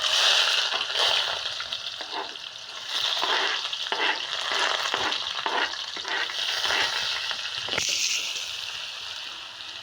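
Onion and dry spices sautéing in hot oil in a kadai make a steady frying hiss, broken by repeated scraping stirs and a louder clatter near the end, close and without speech.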